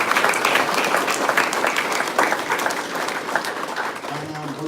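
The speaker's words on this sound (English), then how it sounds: "So just give these elders a round of applause again." A meeting audience applauds elders in a sustained, dense wash of clapping that stays loud throughout, with a faint voice briefly underneath near the end.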